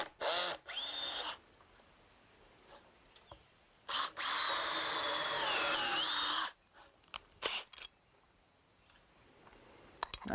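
A power drill with a 1-inch Milwaukee bit and 1/4-inch follower whines in several bursts as it bores into a log mantle, the longest lasting a couple of seconds, with clicks and handling noises between.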